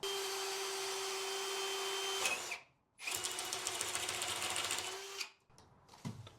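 A power drill whirs steadily at close range aboard a motorsailer, cuts out abruptly as the drill bit snaps off, then revs again before stopping, followed by a few brief clunks.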